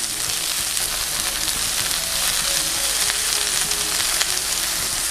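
Tofu fries in a pan over low heat with a steady, soft sizzle and crackle, with small scattered pops throughout and no talking.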